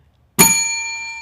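A single bright bell strike rings out on a sports podcast after a moment of near silence, sharp attack and a sustained metallic ring that lingers at close range.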